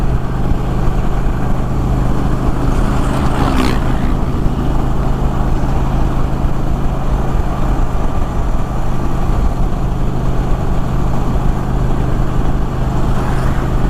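A 2024 Indian Challenger Dark Horse motorcycle holds about 3000 RPM on the highway, its engine a constant loud low drone blended with wind roar, unbroken from start to finish, with no one talking.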